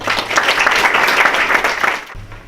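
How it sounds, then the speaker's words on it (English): Audience applause at a stock exchange opening bell ceremony in Mumbai, a dense, steady clapping from a crowd that carries loudly for about two seconds and then cuts off abruptly. "I think that deserves another round of applause"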